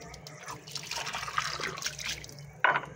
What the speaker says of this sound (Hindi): साफ है वैसे, पानी से साफ कर दो जल्दी।